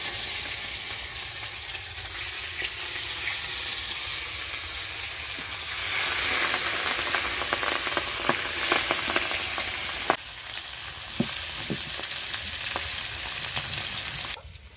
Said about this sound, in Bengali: তো আমার তেল গরম হয়ে গেছে, এবার আমি একটা একটা করে মাছ দিয়ে দিচ্ছি।